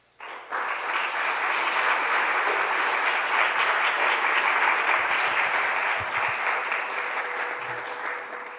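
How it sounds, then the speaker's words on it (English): A large audience at an international conference session on love and service breaks into sustained applause, a dense wash of clapping that starts abruptly and holds steady at full volume for several seconds before easing slightly. "Let us give another round of applause, ladies and gentlemen."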